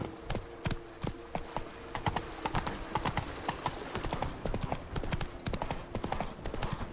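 Horse hooves in The Witcher 3 video game pound in a fast, steady galloping clip-clop, close and clear throughout, with a faint hint of a voice in the background.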